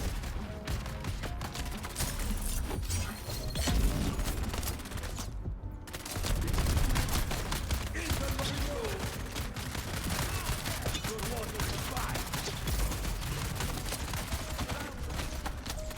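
Dense video game gunfire rattles almost without pause in rapid bursts and volleys, loud and close throughout, with a short break in the middle, while a player talks over the shooting.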